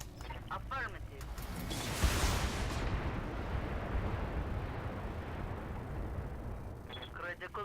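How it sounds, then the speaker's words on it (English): A mech firing all its guns at once in the video game BattleTech: a heavy rumbling barrage of blasts that swells and sustains for several seconds, with brief talk before and after. "Fire all the guns."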